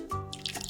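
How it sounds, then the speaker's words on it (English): Water trickles and drips into a bottle of kefir soda, a short close pour with bubbling, gurgling tones and no speech. "we're just going to fill it up to about here with some water"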